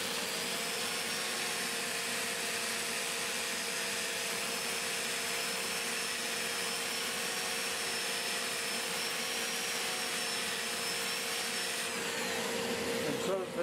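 A wood lathe runs in reverse while a turning is sanded, a dust collector roaring alongside in a continuous loud droning hum.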